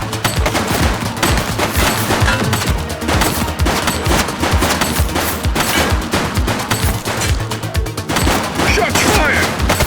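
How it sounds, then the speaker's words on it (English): Loud, sustained fusillade of rapid gunshots in The Precinct, a police video game, with dense overlapping bursts filling the whole stretch. "Shots fired!"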